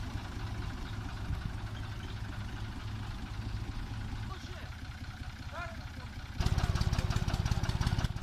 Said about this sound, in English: Two tractors Fiat 540 DT and Fiat 500 DT are loaded with wood when moving down an uneven mountain.